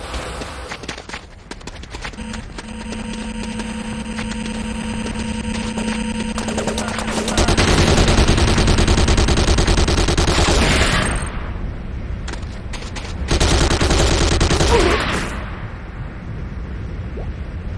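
Gunfire from Command & Conquer Renegade fills the scene, a dense, continuous rattle of shots and explosions over a game soundtrack, swelling loudest in two sustained bursts before briefly dropping away.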